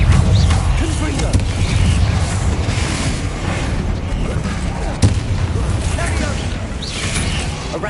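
A Confringo fire spell blasts in Hogwarts Legacy on PS5, a dense, steady roar of booming game combat noise with a sharper impact near the end.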